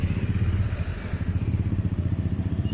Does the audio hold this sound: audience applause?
no